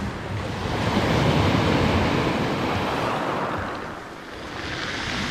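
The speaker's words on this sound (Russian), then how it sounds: "Маленькие волны красивые." Small sea waves wash onto a beach at a Black Sea resort on a warm evening, a steady broadband surf rush with a slight swell and dip, plus some wind noise on the microphone and no talk.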